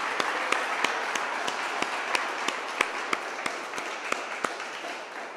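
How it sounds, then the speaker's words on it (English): A school crowd gives sustained applause, a dense even wash of clapping with a few sharper individual claps standing out at intervals, moderately loud and with no talk. "let's give them a round of applause"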